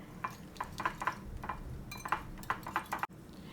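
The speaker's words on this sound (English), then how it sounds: "Then I add the mozzarella cheese and whisk it together because you want a really uniform mixture." Beaten eggs and mozzarella cheese whisked together in a bowl, a quick run of light clinking taps from the whisk against the bowl, steady and close, with a brief pause near the end.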